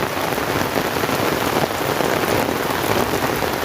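Black floodwater gushing and churning at a flooded street corner during the rainy season, a steady, dense wash of rushing water that stays loud and continuous, with no voices.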